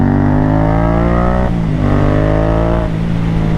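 A 2015 Yamaha FZ07 motorcycle engine revs loudly and close while being ridden through corners, its pitch climbing steadily and then dropping twice at gear changes or throttle lifts, with no talk over it.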